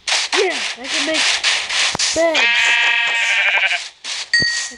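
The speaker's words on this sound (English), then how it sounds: "More sheep." Sheep bleating in a Minecraft-style video game, several loud, close, wavering bleats in quick succession with rubbing, scraping game noises and bright tones mixed in, no talking.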